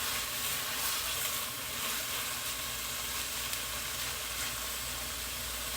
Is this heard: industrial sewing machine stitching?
no